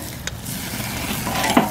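A tomahawk steak sears in a very hot pan with a steady, close sizzle. A couple of sharp clinks and scrapes are heard as the meat is turned over.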